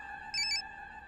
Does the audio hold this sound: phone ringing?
yes